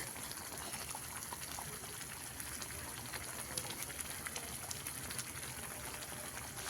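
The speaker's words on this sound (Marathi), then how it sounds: "बघा किती छान शिजायला लागलेला आहे आपला मसाला" A pot of Kolhapuri egg masala gravy with eggs added, simmering steadily: a soft, continuous bubbling and hiss at low volume, with no talking.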